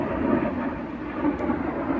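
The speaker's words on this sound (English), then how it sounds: "Hear that jet?" A steady broadband roar of a jet passing overhead, distant and sustained, with no talking.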